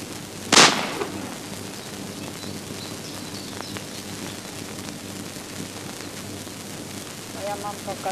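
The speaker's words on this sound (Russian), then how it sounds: "как я стреляю" A single sharp rifle shot rings out near the start, close and loud, fired by an elderly hunter of boars, then a long stretch of quiet outdoor ambience with faint distant noises.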